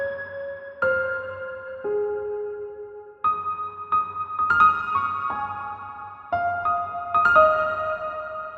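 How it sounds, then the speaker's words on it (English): Piano notes for a liquid drum and bass track drenched in heavy reverb, single tones and soft chords blooming and lingering into a washed-out, spacious tail, with no talking. "What's happening here is that I just took the piano from before, added a lot of reverb."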